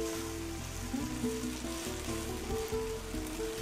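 Vegan product and vegetables heating in a pan, giving a steady, fairly close sizzle and frying hiss with a low hum underneath, continuous through the clip and with no talk.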